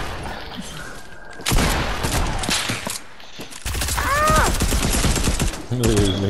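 Rifle fire in Fortnite, loud booming shots and bursts up close, with game effects between them and a gap of near silence partway through.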